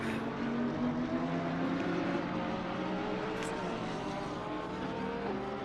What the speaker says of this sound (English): just to hear these engines roar through corners like Abbey, it just sounds fantastic